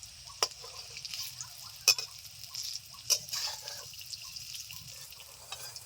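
Egg-coated masoor lentil pieces fry in a pan with a steady soft sizzle, broken by a few sharp clicks and stirs; no talking.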